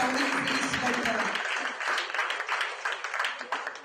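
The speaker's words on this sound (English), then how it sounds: "A nice round of applause." Applause at a hospital memento presentation for doctors, clapping building under a speaking voice at first, then continuing as a moderate round of clapping with voices mixed in.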